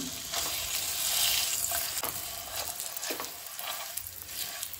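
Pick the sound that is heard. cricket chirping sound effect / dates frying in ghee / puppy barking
dates frying in ghee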